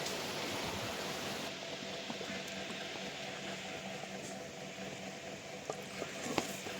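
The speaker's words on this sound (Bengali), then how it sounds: "ঝোল ফুটে উঠেছে" Egg and potato curry bubbles in a clay pot, a soft steady simmering hiss with faint irregular pops, quiet and close, no voices.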